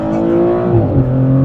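A Maserati GranTurismo Trofeo in Corsa mode accelerates hard from a brake-held launch, its petrol engine note loud and close, with a rising tone that shifts as it changes gear.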